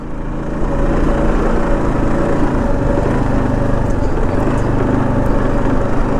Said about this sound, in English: Putting along in first gear.